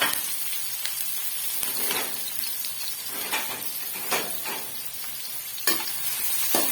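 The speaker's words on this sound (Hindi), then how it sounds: "घी हो गया गरम, हम इस पे डालेंगे प्याज" Onions frying in hot ghee for kofta curry, a steady close sizzle broken by irregular scraping stirs and occasional sharp spatters, with no voices.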